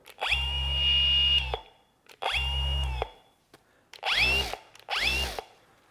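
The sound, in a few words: Mirka AROP312-B random orbit polisher running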